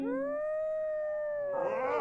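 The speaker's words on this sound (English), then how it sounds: "Stop howling." A werewolf in The Sims 4 lets out one long, drawn-out tonal howl that holds steady, then breaks into rougher, noisier sound near the end.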